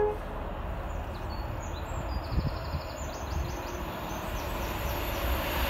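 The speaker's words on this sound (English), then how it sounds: "it is a slow intercity 225 set" InterCity 225 set rolls slowly past a level crossing, a steady low rumble of wheels and carriages at moderate distance, with faint high squeals and bird chirps above.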